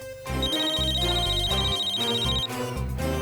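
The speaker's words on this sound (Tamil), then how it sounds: "எனக்கும் ஃபோன் வந்திருக்கு." A phone ringtone sounds as a steady high tone for about two seconds over loud, busy background music from a TV crime drama.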